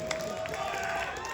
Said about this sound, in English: Now you guys got to get clapping loud.